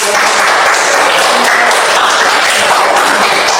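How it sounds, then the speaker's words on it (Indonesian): Classroom students clapping for a group's result, a loud, dense, continuous wash of applause filling the whole stretch. "Mari kita tepuk tangan buat"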